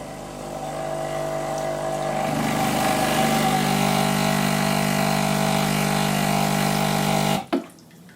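A Sage Dual Boiler espresso machine pumps water through its group head with a steady, loud mechanical hum. The pitch shifts partway through, then the pump cuts off abruptly near the end with a short click.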